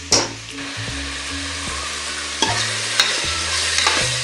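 Ginger garlic paste sautés in a pan with a loud, close sizzle, while a utensil stirs and scrapes in several distinct strokes; no one talks.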